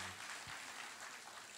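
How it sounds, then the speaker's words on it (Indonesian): A church congregation claps during a worship service, a dense wash of applause heard from within the room, steady and moderately loud throughout. "Kasih tepuk tangan buat Tuhan Yesus."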